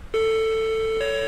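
An electronic alarm in the horror game The Coma sounds a sustained, loud two-tone ring, one steady pitch that steps up to a higher pitch after about a second, alone without talk.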